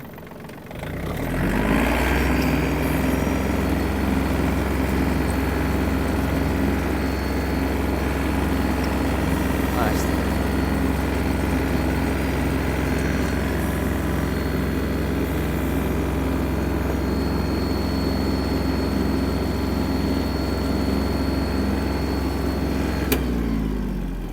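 Yanmar RS-24 Japanese mini tractor engine running steadily for over twenty seconds, a loud, even diesel drone with a deep low rumble, starting abruptly and cutting off near the end, with no talk.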